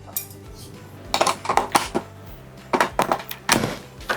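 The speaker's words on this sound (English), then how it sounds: "I'm going to grab my handy dandy mixer, and those are the best attachments to make the dough." Mixer and its metal dough attachments being picked up and handled in a home kitchen while making chicken noodles, giving a run of close, loud clanks and clinks in irregular bursts with short pauses between.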